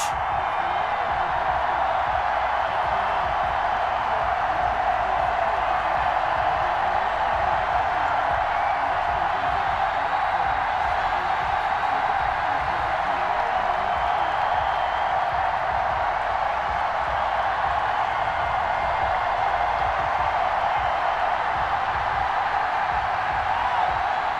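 A stadium crowd at FedEx Field in Madden 21, Washington Football Team against the New York Giants, holds a steady, dense roar of murmuring and cheering for the whole stretch, with no single voice standing out.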